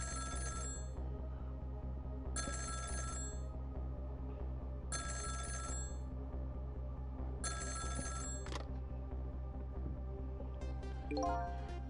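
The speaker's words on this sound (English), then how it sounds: "the phone rang." A telephone rings in the video game Ghost Trick, four evenly spaced electronic bursts over a steady low background hum, followed by a short higher trill at the end.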